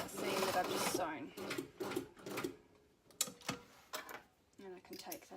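A domestic sewing machine chains off down a freshly sewn pocket seam, running in short mechanical bursts with pauses between them, close and moderately loud, while someone talks over much of it.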